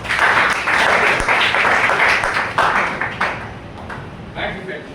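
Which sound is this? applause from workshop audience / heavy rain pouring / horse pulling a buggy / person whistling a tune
applause from workshop audience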